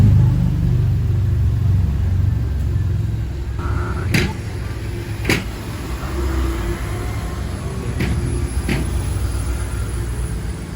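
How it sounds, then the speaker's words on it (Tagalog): Steady rumble of busy road traffic with cars passing one after another, a continuous low drone near the roadside, with faint voices in the background. "Dami sasakyan ngayon"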